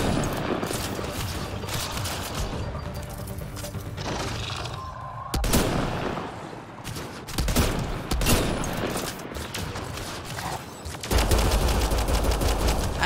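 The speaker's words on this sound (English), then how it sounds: "I don't know why I was trying to use my sniper rifle like a shotgun" Rapid bursts of gunfire from a sniper rifle during a firefight in Mass Effect: Andromeda, loud, dense volleys with booming shots and short gaps between bursts.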